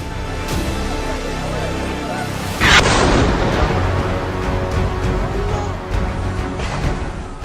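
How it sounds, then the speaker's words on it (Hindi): A rocket striking a hospital compound in Gaza bursts into a loud, sudden blast partway through, its rumbling aftermath carrying on over a dense, noisy background. "अचानक एक रॉकेट निकला और सीधा अस्पताल के परिसर में गिरा। बड़ा धमाका हुआ।"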